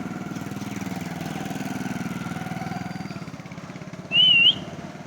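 A single short, sharp whistle at night, used to call stray dogs, rises loud and clear above a steady rumbling engine drone that runs throughout.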